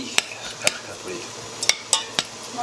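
A spoon stirs tuna casserole ingredients of tinned tuna and broccoli in a pan over low heat, with sharp metallic clinks against the pan recurring every half second or so over a soft background hiss.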